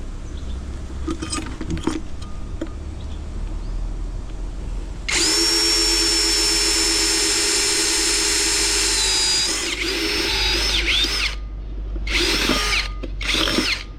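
A power drill whines steadily for several seconds, loud and close, then revs briefly in a few short bursts, with quiet handling sounds before it starts.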